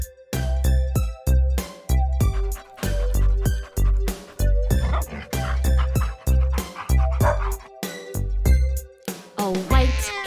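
A children's nursery song imitates a black dog barking loud, with rhythmic sung bark sounds over bouncy musical backing in a repeating pattern, a voice mimicking the dog rather than a real animal.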